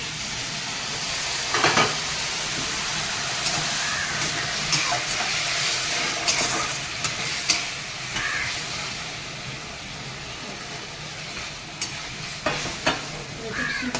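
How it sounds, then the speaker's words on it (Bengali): Hot water hits a pan of sizzling chicken feet curry and raises a steady, close hiss and crackle of steam that lasts throughout, with occasional scrapes and clinks from a stirring utensil. "এই গরম জল ঢেলে দেবো"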